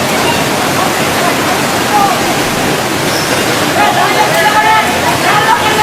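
Tsunami floodwater from the 2004 Indian Ocean disaster surges into a coastal hotel, a loud, continuous roaring rush of water with sloshing turbulence, close and steady throughout, with faint voices mixed into the churn.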